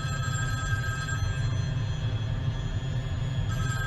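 A telephone rings continuously, a steady electronic trill held over a low rumble, fairly close and with no voices.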